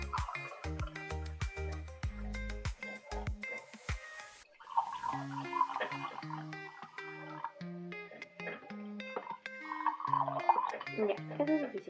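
Water pours into glasses in a long, steady gurgling stream that rises in pitch as each glass fills. The sound is close and continuous with no talk over it.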